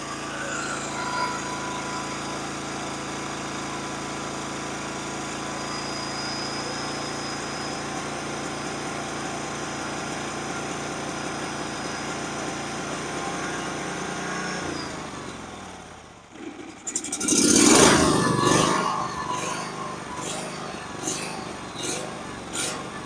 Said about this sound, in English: So this isn't idle. We're in idle right now. And then it's just full run.